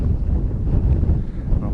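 Wind buffets the microphone outdoors along a roadside in the Crimean countryside on a breezy morning, a continuous low rumbling roar that stays loud and steady throughout with no voices.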